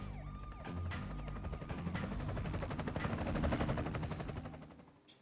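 A steady helicopter rotor thump with rapid chopping pulses, loud and continuous, layered with mechanical video game noise from TMNT 2: Battle Nexus before fading out at the end.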